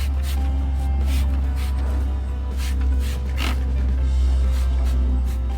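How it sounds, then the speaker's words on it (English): Decon 30 odor remover sprayed onto bare wood furniture, several short, airy spray bursts in a loose rhythm over a steady low mechanical hum. "we'll just give it a light little spritz"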